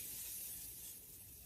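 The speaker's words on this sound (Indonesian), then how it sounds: "3 kali semprot aku tujukan kepada setting spray" Makeup setting spray misted from a bottle gives a faint, steady, airy hiss that fades slightly toward the end, with no talking.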